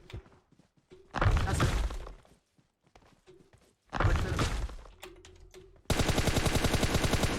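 Video game gunfire in an online team shooter: two bursts of rapid automatic shots close in front, followed by a dense, continuous volley at the end, with sparse game noises and quiet gaps between.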